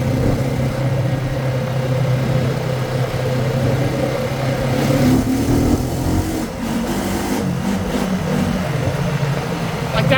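A Honda Rancher ATV rolls along a trail with a steady low engine drone, and throttle blips rise and fall in the second half.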